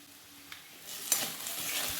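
Ground cumin paste, chilli powder, turmeric and salt are sautéed in a pan, giving a faint, steady frying hiss that builds slightly, with a couple of soft utensil taps.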